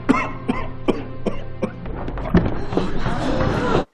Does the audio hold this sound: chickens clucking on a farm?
no